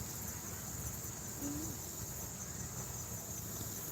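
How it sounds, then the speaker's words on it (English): A steady high-pitched insect chirring fills the background, with one brief low hoot-like call in the middle. "What's that bug back here making that noise?"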